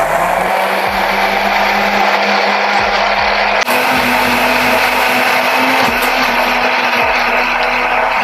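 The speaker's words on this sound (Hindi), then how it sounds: "we are just putting it in the mixer grinder" A mixer grinder blending a strawberry daiquiri mocktail whirs loudly and steadily, its motor pitch shifting slightly partway through as the blend churns, with no voices.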